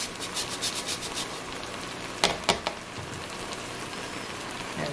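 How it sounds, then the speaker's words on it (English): Frozen food grated on a kitchen grater, a run of rhythmic scraping strokes up close, then a few sharper louder scrapes and a steady background hiss, with no voices. "It grates so much easier frozen."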